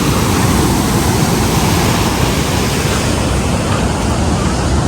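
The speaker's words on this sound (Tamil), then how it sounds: "தண்ணி நிறையா தண்ணி போகுதுங்க." A loud, continuous roar of water rushing from Kallanai Dam fills everything, a dense steady wash of noise with no breaks.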